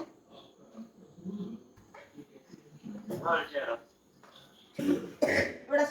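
A couple of harsh, close coughs burst out between stretches of indoor talking and murmuring.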